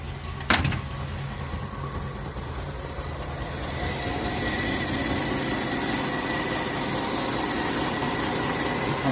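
A Ford Zephyr MkIV V4 car engine idles quietly, humming evenly throughout, with a short sharp knock near the start and a faint rise in noise partway through.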